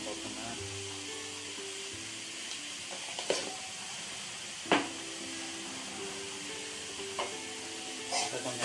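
Salted aloo paratha potato filling sautés in a pan with a steady sizzle, while a spoon scrapes and stirs in occasional sharp strokes.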